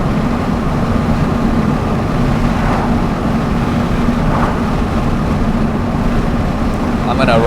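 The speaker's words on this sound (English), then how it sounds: "There's just too much wind noise." Steady, loud wind roar rushes through the open windows of a 2022 Toyota GR86 as it drives, a broad continuous buffeting rumble that persists throughout.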